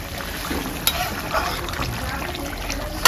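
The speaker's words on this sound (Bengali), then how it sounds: "এখন সবজিতে দিয়া 1 মিনিটের মতন নাড়া দিয়া তারপর নামাই নেব।" Fried fish being stirred into cauliflower curry in a pan, a wet, bubbling, sizzling wash with soft scraping and a couple of sharp clicks of the spoon against the pan, close and continuous, with no talking.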